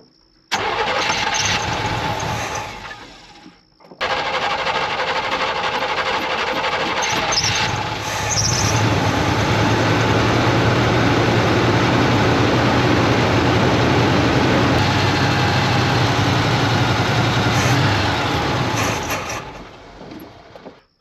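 The engine of a 1981 Chevrolet squarebody farm truck, running on regular gas, starts after a brief crank, dies, then catches again and runs loud and steady at close range, with squeals near the start before it shuts off.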